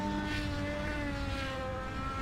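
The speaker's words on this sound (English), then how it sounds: "Revving that motor up, and off he goes" Race car engine revving back up after a pit stop at the Nürburgring Grand Prix circuit, a steady droning tone that holds level and loud throughout with no break.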